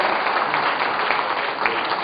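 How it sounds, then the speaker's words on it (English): Steady applause from a crowd at a district installation ceremony, dense continuous clapping at a constant level throughout, with no voices standing out. "you can give him a big round of applause"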